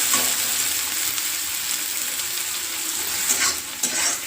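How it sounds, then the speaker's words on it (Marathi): Chopped onion frying in a pan, a steady close hiss of sizzling oil with occasional louder crackles and a faint scrape, no voices. "कांदा चांगला भाजून घ्यायचं आहे"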